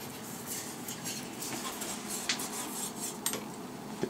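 A nine-inch slicing knife scraping and cutting into an Xbox game disc and case, soft rubbing scratches with a few sharp clicks, quiet and close, with no talking.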